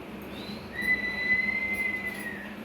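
A single high whistle blows in a kitchen where ghee is being heated, a thin steady tone that starts partway in and holds for over a second over low background noise.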